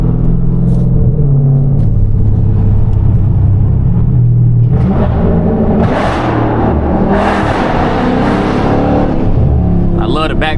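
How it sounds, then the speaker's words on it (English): A Dodge Hellcat cruising through downtown Charlotte, its engine rumbling loud and close, with rough exhaust crackles and a burst of revving in the second half. Someone talks over the engine throughout. "I love the backfire, man."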